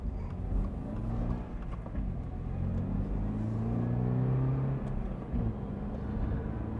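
A 2022 Subaru BRZ Premium's engine rumbles steadily from inside the car on a test drive, with low harmonic tones rising and falling as it accelerates, continuous and moderately loud.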